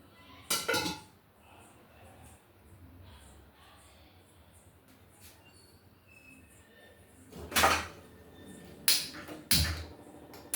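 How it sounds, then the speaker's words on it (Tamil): Pressure cooker set down on a kitchen stove, several loud metallic clanks and knocks spaced over ten seconds, with quieter handling sounds between them. "இப்போ வந்து குக்கர் வந்து அடுப்பில் வச்சுக்கலாம்"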